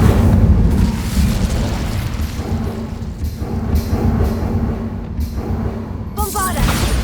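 Incendio fire spell blasts in Hogwarts Legacy, a heavy, sustained roaring rumble of loud fiery bursts that swells and churns for several seconds, with a brief higher tonal flicker near the end.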